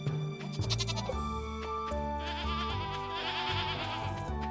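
Several goats bleat in the Stardew Valley farming game, layered over the game's continuous background music in short, repeated calls.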